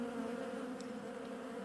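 Honeybees swarm at a hive during a winter inspection, making a steady, dense, close buzzing hum that continues throughout without pause.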